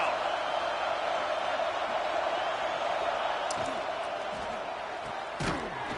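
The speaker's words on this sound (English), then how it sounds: "Listen to this crowd." A large stadium crowd at a college football game roars steadily in the distance, a sustained wash of noise, with a couple of sharp thuds near the end.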